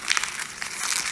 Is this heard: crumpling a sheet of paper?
yes